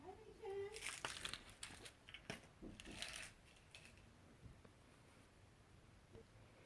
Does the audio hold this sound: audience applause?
no